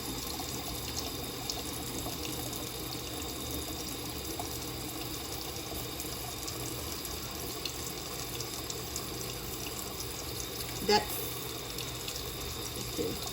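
Kitchen tap runs steadily for a long stretch while salmon is scaled under the stream, a constant hiss with a single brief clink near the end.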